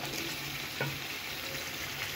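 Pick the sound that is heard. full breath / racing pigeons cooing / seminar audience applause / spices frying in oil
spices frying in oil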